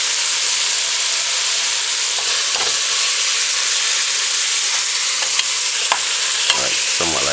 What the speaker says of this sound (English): Just cook it, fry it for 1 or 2 minutes on one side, and then flip it.